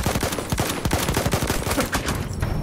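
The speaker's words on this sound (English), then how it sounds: "Machine gun, right there!" Machine gun fire in a Battlefield 1 multiplayer battle: rapid, dense bursts of shots in a steady rhythm, loud and close, with overlapping distant gunfire filling the background throughout.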